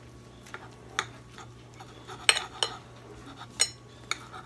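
Knife and fork cut into a grilled stuffed chicken breast topped with marinara and smoked gouda, filled with asparagus and bacon, cooked on a Weber kettle: sparse, close metallic clicks and scrapes of cutlery on a plate over a low steady hum, with no talking.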